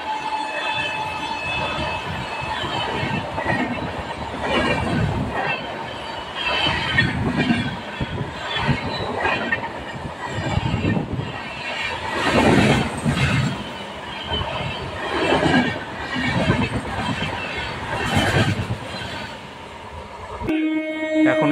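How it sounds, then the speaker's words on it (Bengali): The Gurumukhi superfast express passes close by, loud and sustained, with rhythmic wheel clatter and squealing metal rising and falling over about twenty seconds. "এখন সামনে দিয়ে বেরিয়ে যাচ্ছে গুরুমুখী সুপারফাস্ট এক্সপ্রেস।"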